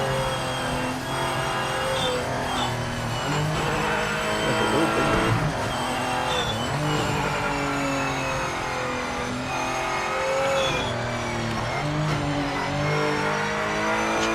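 A race car in the Project Motor Racing video game drives a lap, its engine revving loudly up and down through gear changes with brief tire squeals, close and continuous.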